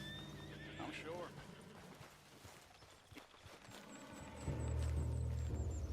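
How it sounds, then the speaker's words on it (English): Spooked horse in the Red Dead Redemption 2 video game whinnying with a rising and falling neigh, over clip-clopping hooves and a low rumble, while characters talk in the background. "What's got this horse spook"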